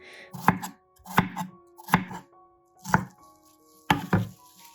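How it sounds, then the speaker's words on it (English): Knife chopping onions on a board, five or six sharp rhythmic thuds at a steady pace, close and clear with no talking. "Just chop them."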